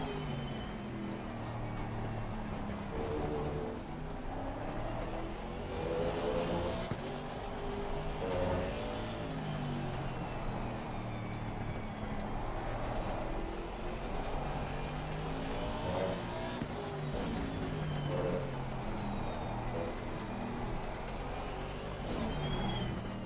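Race car engine in Assetto Corsa Competizione, a steady droning in-car engine note with shifting pitch as the car follows an AI opponent closely, continuous and fairly loud throughout.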